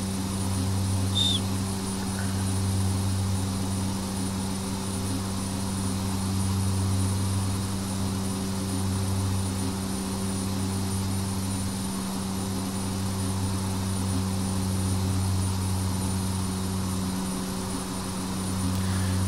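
A steady, droning hum of a turboprop engine at climb power with the propeller set to 1900 RPM, an unbroken propeller whine and tonal drone in an X-Plane flight simulation, with no talking.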